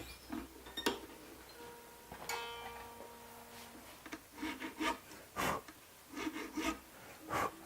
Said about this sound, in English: run a quick file through each string just so that it's clear of debris and dust and dirt